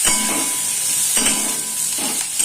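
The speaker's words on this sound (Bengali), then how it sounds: "একটু লাল লাল মতো করে বেগুনটাও ভেজে নেব।" Eggplant pieces frying in a pan for a koraishaak dish, a loud, dense, continuous sizzle close by, with occasional soft stirring scrapes and no one talking.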